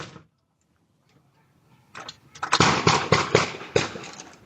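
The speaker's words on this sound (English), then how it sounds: "The gunshots are heard in a video captured by her doorbell camera." Gunshots picked up by a residential doorbell camera on a street in the morning: after near silence, a rapid series of sharp cracks rings out, several bursts in quick succession, moderately loud and slightly distant.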